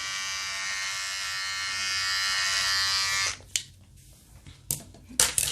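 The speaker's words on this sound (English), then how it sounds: "this is what I like to do once or twice a week with my trimmer" An electric beard trimmer buzzes loudly and steadily up close for about three seconds, then switches off, followed by a few faint clicks and handling sounds.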